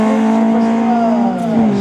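A race car at the Gavray hill climb holds a loud, sustained engine note close by, its pitch sliding gradually as it drives through, with no speech over it.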